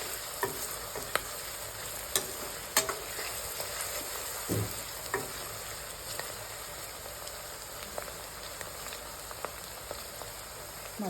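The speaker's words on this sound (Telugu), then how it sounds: "మధ్యలో ఇలా కలుపుకుంటూ ఆనియన్స్ బాగా ఫ్రై అయ్యే వరకు ఇలా కలుపుతూ ఉండాలి." Onions fry in hot oil in a pan for chicken gravy curry, a steady close sizzle broken by occasional sharp clicks and scrapes as a spoon stirs them now and then. No one speaks.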